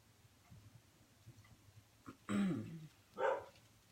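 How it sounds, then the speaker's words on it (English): A dog indoors gives two short barks, fairly close and distinct, against a quiet room background. "Oh, there goes my dog."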